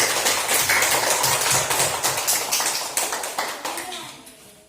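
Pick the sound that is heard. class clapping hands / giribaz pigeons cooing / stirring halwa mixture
class clapping hands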